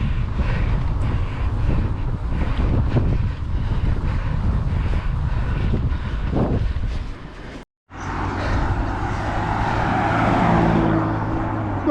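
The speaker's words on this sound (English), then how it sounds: "this 20-mile-an-hour headwind is hard work, even on the flat" Strong 20 mph headwind buffeting a cyclist riding on flat roads: a loud, continuous roaring rumble of wind across the microphone, cut by one abrupt brief dropout before the gusty roar resumes.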